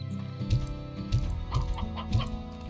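Stony hen chickens in the video game Slime Rancher, a run of clucks and short squawks repeating in an uneven rhythm, close and clear with no talking over them.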